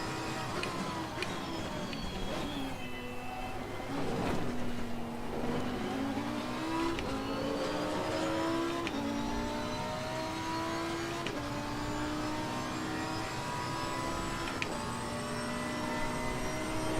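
A Bentley race car engine in Assetto Corsa Competizione revs and shifts repeatedly, with the pitch rising and falling through the gears in a steady, loud, continuous drone.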